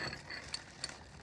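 A ratchet fitted with a pipe extension works a tight bolt loose on the suspension of a 2011 Ford Focus, giving a few faint metallic clicks and a soft pop, quiet and close.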